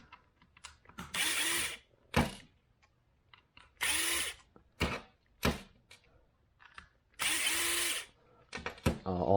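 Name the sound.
electric screwdriver removing screws from Nerf Rapidstrike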